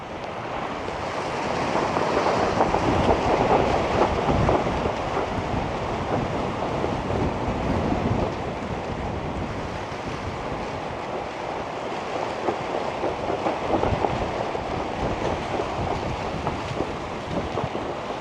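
Strong gusting wind roars over a stormy Bodrum shoreline, mixed with crashing surf. The rushing noise stays constant throughout and swells in louder surges.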